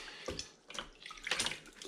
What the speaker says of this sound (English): keep rinsing it through, unraveling the knots